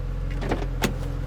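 The power windows of a black 2009 Porsche 911 Turbo slide down with a steady low motor hum inside the parked car, broken by a couple of faint clicks and one sharper tick.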